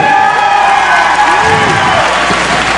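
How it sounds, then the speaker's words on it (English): Crowd at a boxing event applauding and cheering, loud and close with whoops and shouts rising over steady clapping. "a big round of applause for Chris Peak also here"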